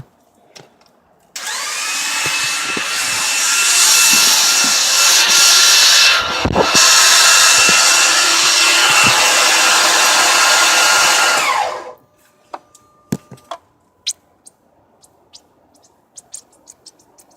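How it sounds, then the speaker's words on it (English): Air or oil hisses out of the engine lifters of a 2007 Dodge Ram 2500 with a 5.7L engine: a loud, steady broadband rush for about ten seconds, then it cuts off, leaving scattered small clicks and taps. "let me see if you guys can actually hear the air or the oil squirting out of it"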